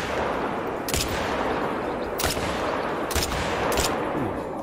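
.223 rifle shots from an AR in theHunter: Call of the Wild, four sharp broadband cracks at irregular intervals over a steady, loud wintry ambient wash.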